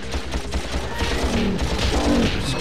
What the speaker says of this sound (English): I'm just getting out the blaster